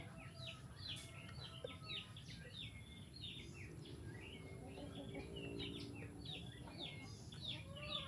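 Chickens cluck and chirp in the distance over a low outdoor rumble in Negros, Philippines, with other birds calling faintly throughout.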